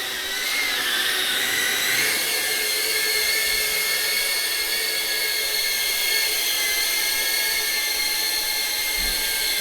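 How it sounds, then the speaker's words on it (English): An FPV drone flies indoors with a steady, high-pitched whine of spinning propellers and motors, loud and close, its pitch wavering slightly as it climbs. "the drone is going up"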